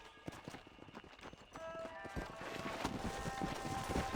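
Horse galloping in Red Dead Redemption, a rhythmic run of hoofbeats that grows denser and louder over a soft game background, with faint talk in places.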